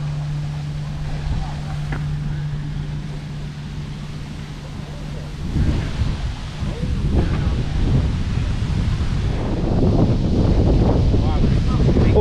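Strong wind gusts outdoors at a classic car show at the British Motor Museum, a steady rumbling roar that buffets the microphone and grows heavier toward the end.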